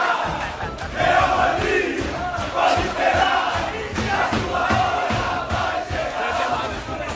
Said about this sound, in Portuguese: decidiu puxar o canto Real Madrid pode esperar. Real Madrid, pode esperar.